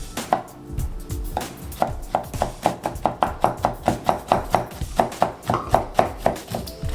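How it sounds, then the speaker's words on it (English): Knife chopping brown sugar into a mixture on a cutting board in a kitchen, a steady run of sharp, close chops about three per second with no talk. "Just chop that in there."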